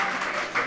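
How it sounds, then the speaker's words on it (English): Crowd at a Cork Premier Minor football final between Douglas and Glanmire: a brief, steady roar of cheering and clapping from many spectators, with no single voice standing out. "The crowd reaction said it all there."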